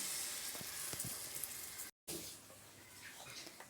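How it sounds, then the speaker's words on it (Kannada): Gram flour mixed with water poured into a hot pan for egg bhurji sets off a close, fairly loud sizzle and bubbling hiss, briefly cut out, then continuing with wet stirring noises. "ಈಗ ನಾನು ಪುಟಾಣಿ ಹಿಟ್ಟನ್ನ ನೀರಲ್ಲಿ ಕಲಿಸ್ಕೊಂಡಿದ್ದೆ, ಅದನ್ನ ಹಾಕ್ಕೊತಾ ಇದ್ದೀನಿ."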